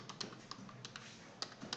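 Soft, sparse keystrokes on a computer keyboard, a few quiet irregular clicks close to the microphone over faint background hiss.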